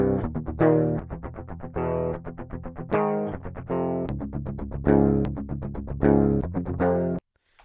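Two low-gain electric guitar tracks layered and played in unison, a steady run of tightly locked strummed chords with short gaps, loud and close with no voices, ending abruptly.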